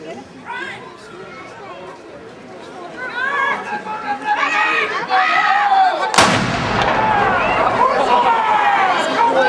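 An artillery battery at Culture Copenhagen 2006 fires a sudden, loud booming shot amid a crowd's continuous chatter and voices, with the rumble lingering afterward.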